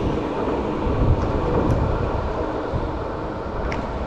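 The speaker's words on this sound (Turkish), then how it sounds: "Tramvay geçiyor." A tram passes on a city street, a continuous low rumbling roar that holds steady and fairly loud throughout, with faint squeaks above it and no talk.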